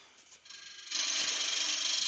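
A spindle roughing gouge cuts into a wooden wand blank spinning on a lathe, starting as a faint hiss and then jumping to a steady, close, loud rasping shear that holds to the end.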